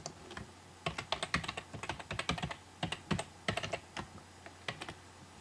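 Typing on a computer keyboard, quick bursts of soft key clicks in uneven runs with short pauses, close but quiet, without any voice.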